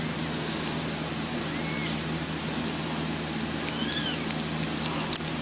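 Tiny, thin mewing cries from newborn Persian kittens, a few faint squeaks spread out over a steady low hum.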